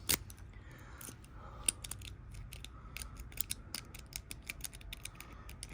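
A Kwikset lock cylinder being picked: faint, close, irregular tiny metallic clicks and ticks of pins setting, with light scraping over a quiet background.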